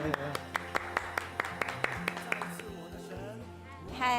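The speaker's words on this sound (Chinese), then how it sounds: "掌声" Sharp claps ring out at a steady beat for about two seconds at a church youth service, then fade into murmuring voices and background chatter; a small, scattered round of applause.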